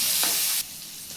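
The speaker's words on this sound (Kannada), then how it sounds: "ನಂತರ ಹಸಿಮೆಣ್ಸಿನ್ಕಾಯಿ ಮತ್ತು ಒಣಮೆಣ್ಸಿನ್ಕಾಯಿ ಹಾಕ್ಕೊಂಡು ಇದನ್ನು ಸ್ವಲ್ಪ ಫ್ರೈ ಮಾಡ್ಕೊತಾ ಇದ್ದೀನಿ" Garlic paste sizzles in hot oil with green and dry chillies: a bright, steady frying hiss that drops to a softer sizzle partway through.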